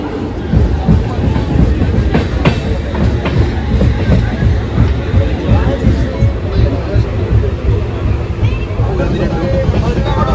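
A passenger train on a long journey toward Delhi rumbles along the rails, a loud continuous roar with rhythmic clattering wheel knocks and wind buffeting, heard from on board with a voice faintly under it.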